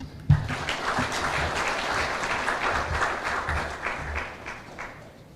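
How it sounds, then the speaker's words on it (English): Sustained audience applause at a high-level World Refugee Day dialogue on the Shirika Plan for Refugees, a dense wash of clapping from a large crowd lasting several seconds before tapering off at the end. "Ladies and gentlemen, please a round of applause"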